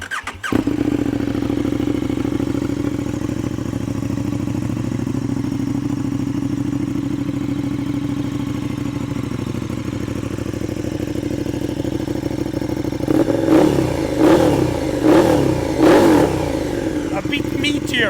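A KTM Superduke 1290 R EVO with an Akrapovic exhaust, heard close up as a deep, steady idle that breaks into several sharp revs near the end.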